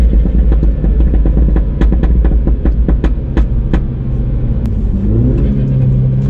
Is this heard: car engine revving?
yes